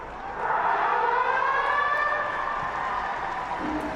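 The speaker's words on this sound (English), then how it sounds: "the siren will sound in any moment now" A stadium siren wails to end the first half of a Jersey Flegg rugby league grand final between Canterbury-Bankstown Bulldogs and Cronulla Sharks, a long rising-and-falling tone over the crowd's background noise.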